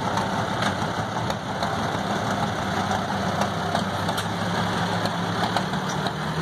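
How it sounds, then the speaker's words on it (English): A 1953 Ford Jubilee tractor engine chugs steadily at idle during an outdoor engine show parade, a continuous low rumble with a faint rhythmic knock, no voices. "Next, we have another Ford, the Jubilee, 1953, Leland E. Church"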